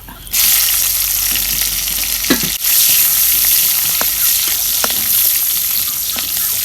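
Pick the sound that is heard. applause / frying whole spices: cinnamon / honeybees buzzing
frying whole spices: cinnamon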